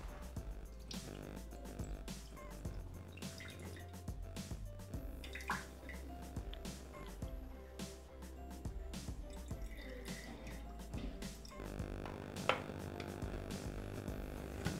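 Whey from homemade butter drains out of a Thermomix basket into the bowl as quiet, close drips and trickles of liquid, faint and irregular, with no talking.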